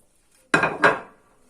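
Two quick clattering knocks as eggplants are placed into a large metal oven tray, close by, each ringing briefly before fading.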